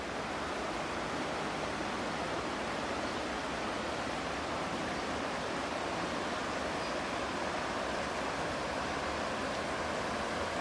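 Water pours over a weir in a slight waterfall, a dense, unbroken roar of rushing flow that stays loud and constant throughout, with no voices.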